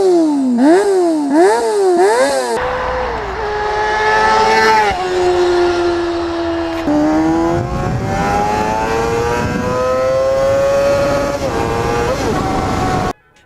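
A Honda CBR250RR inline-four motorcycle revs hard, close and loud: a few quick throttle blips, then long climbing howls toward a high-pitched scream near 20,000 rpm, with no talking.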